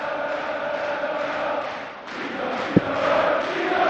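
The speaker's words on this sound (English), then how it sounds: "Now the crowd is singing his name and getting what they wanted." A darts crowd at the 2017 German Darts Championship in Hildesheim fills the hall with a steady roar of chanting and singing for Peter Wright, sustained throughout with one sharp thump near the end.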